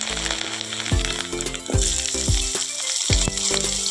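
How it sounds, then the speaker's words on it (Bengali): Potatoes frying in hot oil in a wok (kadai), being prepared for a Bengali shukto: steady loud sizzle with repeated sharp metallic scrapes and clanks of a spatula stirring, no talk. "আলুটা আগে ভেজে নেব।"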